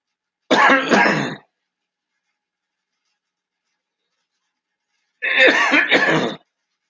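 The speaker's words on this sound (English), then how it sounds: "I had a cold last 2 weeks ago and I'm still coughing up and stuff" Two bursts of harsh coughing from a lingering cold, separated by about four seconds of silence, close and loud, with no talking.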